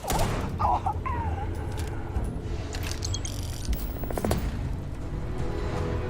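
A burst of dense explosions and rapid crackling blasts in the video game Starfield, booming and cluttered, continuing steadily throughout with no one talking.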